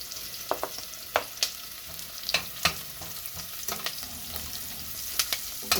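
Tinapa, smoked fish, fries in a pan with a steady close sizzle, broken by scattered crackles and pops of spitting oil, and no voices over it.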